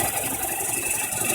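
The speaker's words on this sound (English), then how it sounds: "So that rattling, I need to build a new lathe table." Wood lathe rattling on an unsteady table while a bowl is hollowed, a continuous close mechanical rattle and hum with a steady buzzing texture and no voice.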